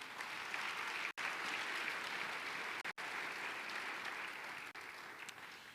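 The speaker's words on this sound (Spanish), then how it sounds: "Dale un fuerte aplauso al Señor." Church congregation applauding, a steady sustained patter of many hands clapping at moderate distance, interrupted by a few abrupt dropouts, with no speech over it.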